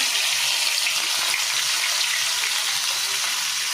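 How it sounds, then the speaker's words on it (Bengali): Cumin seeds and a bay leaf dropped into hot oil for tempering, giving a loud, dense, even sizzle that holds without a break. "ওই তেলে ফোড়নে দিয়ে দিলাম জিরে আর একটা তেজপাতা"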